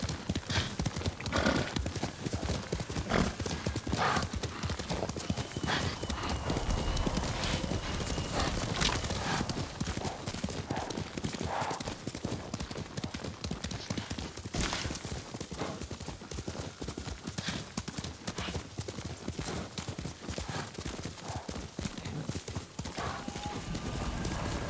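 Horse hooves clip-clop in a steady trotting rhythm in the video game Ghost of Tsushima, with occasional neighs and whinnies over a dense, continuous bed of game ambience throughout.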